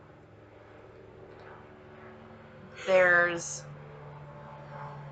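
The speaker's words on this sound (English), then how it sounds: "You hear that plane going over?" An airplane flies overhead as a faint, steady, low drone that lasts throughout, with a brief spoken word in the middle.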